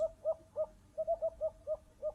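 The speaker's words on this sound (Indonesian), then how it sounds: "Suara burung hantu sayup terdengar di kejauhan." Faint, distant owl hooting in a night forest by a cliff edge, a quiet run of about ten short, evenly spaced hoots with brief pauses.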